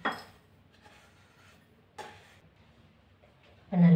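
Roasted rava being moved from the pan into a bowl, heard as a few scattered metallic clinks and scrapes of a utensil, quiet and sparse, ending in a louder clatter.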